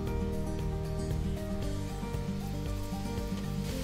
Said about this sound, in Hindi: तेल अच्छे से गर्म हो गया है, अब हम इसमें समोसे फ्राई कर लेते हैं।